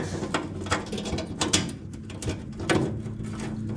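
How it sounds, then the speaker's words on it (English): A wing nut is turned down on a panel clamp during floor pan welding prep on a Datsun 280Z, giving a run of close, rhythmic metallic ratcheting and scraping clicks. "then you just tighten this wing nut down"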